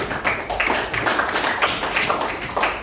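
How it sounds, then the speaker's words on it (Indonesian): Classroom applause from students, a steady patter of many hands clapping at moderate loudness throughout, slightly uneven in rhythm, with no talking over it. "Kasih tepuk tangan"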